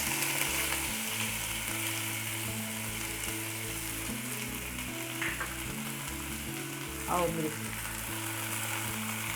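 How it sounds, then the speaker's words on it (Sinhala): Oil sizzles steadily and loudly in a pan while soya kebab ingredients fry, a dense continuous crackle with background music and a brief spoken word over it. "භාජනයකට තෙල් ස්වල්පයක් ටික තබා ඒ හොඳින් නටන විට"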